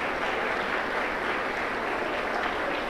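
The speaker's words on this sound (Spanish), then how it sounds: "fuerte aplauso, contento para Jesús" A Pentecostal church congregation claps in a continuous, dense wash of applause, steady and even in volume from start to finish with no voices rising above it.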